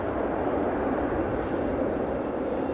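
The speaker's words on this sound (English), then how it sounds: "EasyJet Amsterdam flight, A319, is on its way. Lined up in front of me." An EasyJet Airbus A319 lined up at Edinburgh Airport gives off a steady, loud jet engine roar, broad and unbroken, with no voices over it.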